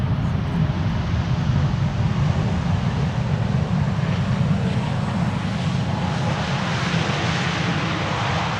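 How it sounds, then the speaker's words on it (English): A Saudia airliner in 75-years livery arriving from Jeddah at Schiphol Airport, a loud, steady jet engine roar with deep rumble, sustained and close throughout. "Saudia flight 215 up next in the 75 years livery, arriving from Jeddah"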